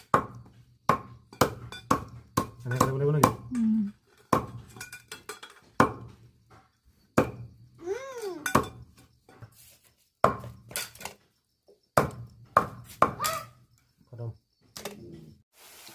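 A knife chops local chicken meat with sharp, uneven thwacks and clinks against a hard surface, scattered in quick bursts while people talk nearby.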